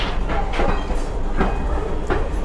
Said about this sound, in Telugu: చాలా పెద్ద రైల్వే స్టేషన్ ఉంది ఇక్కడ